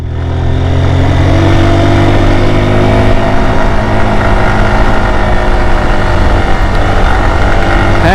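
A motorcycle engine revs hard and steadily on a steep mountain road near Keokradong, about 3,172 feet above sea level, with a loud, continuous droning roar that holds strong throughout and no voices over it.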